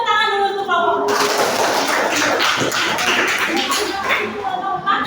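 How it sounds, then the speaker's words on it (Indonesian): Applause for a student group in a classroom, a dense burst of clapping from many hands after a brief tonal lead-in, with voices murmuring underneath. "Tepuk tangan dulu untuk kelompok 4."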